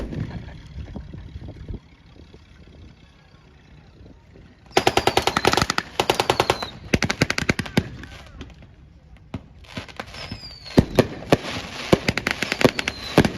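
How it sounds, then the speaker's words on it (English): Bursts of rapid machine-gun fire from M3 and M16 quad machine guns at a WWII reenactment at a thresher show, loud rattling volleys and sharp single shots after a quieter stretch with faint background noise. "as the Allied counterattack moves forward with both M3 and M16 quad machine guns"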